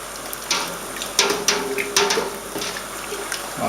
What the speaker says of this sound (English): Let's give this a good old stir.